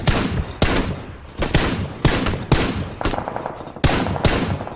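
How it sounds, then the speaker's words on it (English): Gunfire in the video game PUBG: several loud, sharp bursts of rapid shots come in quick succession, close and punchy, with brief gaps between volleys. "Keep shooting, boys. Keep shooting."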